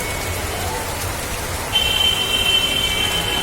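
Steady rain pours down on the flooded streets of Chittagong, Bangladesh, in a dense, even hiss, with a thin high whine joining partway through.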